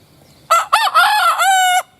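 A rooster crows loudly and close, a single clear cock-a-doodle-doo in several rising and held notes.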